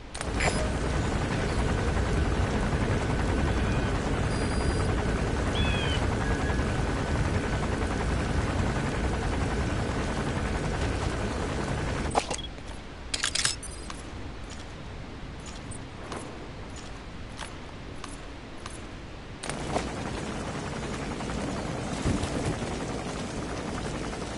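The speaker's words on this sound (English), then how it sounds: "Looks like the arms dealer's chopper is gonna patrol for the security forces." Helicopter patrolling in Metal Gear Solid 5, a steady broadband rotor drone that holds loud, then drops off partway through to a quieter rumble with scattered clicks and rustles.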